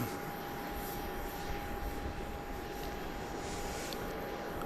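Boeing 737-700 jet at Dallas Love Field, a steady broad engine roar with a constant high whine, moderately distant and unbroken, no talk.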